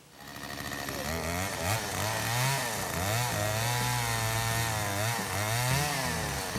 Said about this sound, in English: So we had to cut the tree down to get the chassis out.